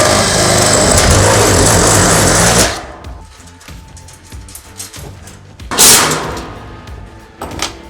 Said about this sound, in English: I'm just going to drill a little bit of a hole into the thinner sheet metal in the shelf